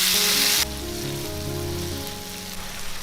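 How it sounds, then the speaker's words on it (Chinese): Tomatoes hit hot oil with garlic in a wok for a Chinese sea bass dish, a loud burst of sizzling that settles into a steady close crackle, with a low tonal hum running underneath. "接着把番茄放进来炒"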